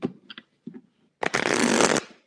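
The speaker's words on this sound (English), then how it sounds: "But I'm so used to the small cards now, they're so much easier to shuffle." A deck of small playing cards is shuffled close by, a few light taps and flicks followed by a dense, loud riffling burst lasting under a second.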